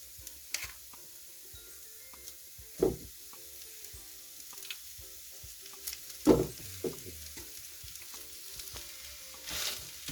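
Mashed potato being stirred into spice masala frying gently over low heat for an aloo matar snack: a steady soft sizzle with a few louder scraping stirs standing out, close and without talk.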